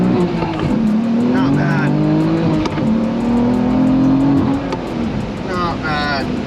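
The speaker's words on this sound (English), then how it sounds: "Usually when you get to redline in these cars in 1st gear and you try to bang shift 1st and 2nd" A BMW F80 M3 fitted with an RTD shifter and upgraded differential bushings revs hard toward redline in first gear, then the engine note drops as it shifts into second. The engine roar is loud and close, and someone speaks briefly near the end.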